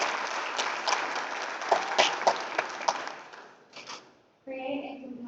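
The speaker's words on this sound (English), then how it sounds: "Let's give Michelle a round of applause." An audience claps for a woman named Michelle at a company associates' event, a moderate round of applause that thins out and stops, followed by a brief stretch of talk.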